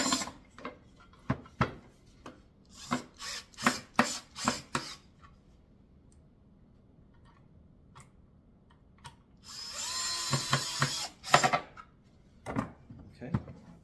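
A power screwdriver with a Phillips bit driving screws into a natural wood kids chair, heard as a series of short, sharp whirring bursts, then a longer grinding run near the end.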